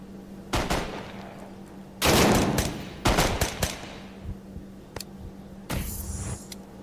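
9mm pistol gunfire in the VR shooter game Tactical Assault VR: several sharp shots and short bursts at irregular intervals, loud and close, with a steady low hum beneath.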